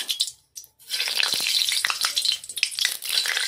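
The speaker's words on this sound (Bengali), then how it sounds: "গরম তেল ব্যাটারের মধ্যে দিয়ে দিলাম" A brief pause, then a loud burst of sizzling as two spoonfuls of hot vegetable oil hit potato chop batter, crackling steadily and close up.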